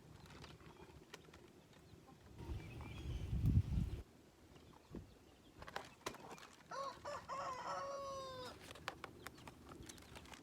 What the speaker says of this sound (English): This sound, called crowing, is made by a rooster.